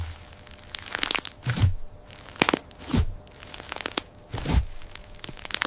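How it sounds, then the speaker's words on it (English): Crunchy slime filled with fluffy beads crackles and pops as it is squeezed, several sharp bursts of crunching at irregular intervals with quieter crinkling between them. "Crunchy slime time."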